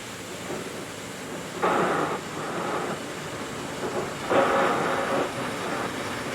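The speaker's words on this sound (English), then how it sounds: "I took the air escaping in the vent and I kind of used it as a riser." Slowed, processed air hissing out of an industrial vent, a faint breathy wash that swells twice into louder whooshing bursts, alone with no voices.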